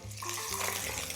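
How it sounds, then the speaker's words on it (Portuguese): Mirepoix of onion, celery and carrot dropped into warming oil gives a brief, steady close hiss of frying, with no voices. "Depois que começou a aquecer um pouco o óleo, eu jogo de uma vez só o meu mirepoix"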